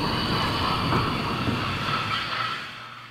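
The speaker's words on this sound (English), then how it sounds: "we see the train heading into Summerlin" A CP Rail freight train rolls past near a lumber mill, a continuous loud rumble of wheels and cars that slowly fades toward the end.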